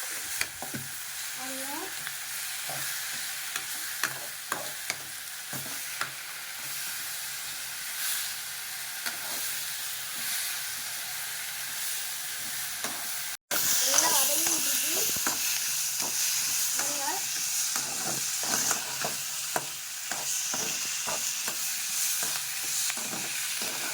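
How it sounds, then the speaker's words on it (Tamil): Food sizzles and fries steadily in a hot pan with a little salt, with repeated stirring scrapes throughout, close and continuous, and a brief cut midway where the hiss jumps slightly louder. "நல்லா மையா வதக்கணும்."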